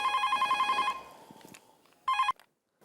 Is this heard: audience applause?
no